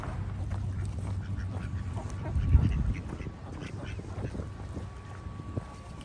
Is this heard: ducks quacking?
yes